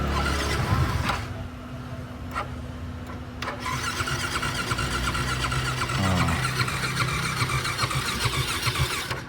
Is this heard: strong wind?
no